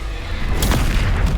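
A Bombarda spell explodes in a Harry Potter video game, a loud low boom swelling around the midpoint and rumbling on to the end of the short burst.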